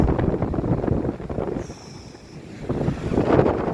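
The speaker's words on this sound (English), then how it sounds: "That's what you call white water." White water waves break along a beach on Anglesey, a steady roar of surf with wind buffeting the microphone, surging, easing briefly, then building again, with no talking.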